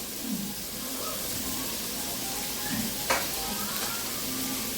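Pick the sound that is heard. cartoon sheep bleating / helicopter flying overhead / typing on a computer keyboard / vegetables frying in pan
vegetables frying in pan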